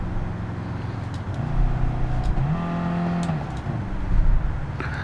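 A Lamborghini Huracan GT3 race car engine in Gran Turismo 7 at Daytona, a steady mid-level drone whose pitch climbs and shifts as it accelerates, with no talking.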